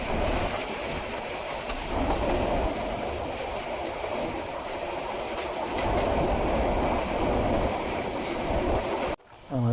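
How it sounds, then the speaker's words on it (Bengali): Titas commuter train running through Tejgaon railway station without stopping, a loud continuous rumble with rhythmic wheel clatter throughout, ending in a sharp cutoff near the end. "তিতাস কমিউটার ট্রেনটি এখন তেজগাঁ রেল স্টেশন অতিক্রম করছে"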